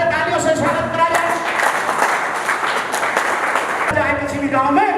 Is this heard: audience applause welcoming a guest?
yes